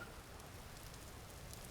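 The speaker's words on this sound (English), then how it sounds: "and it's raining again" Rain in the survival game Vintage Story falls as a steady, faint hiss of drops pattering on surfaces, continuous and even throughout, with no voices.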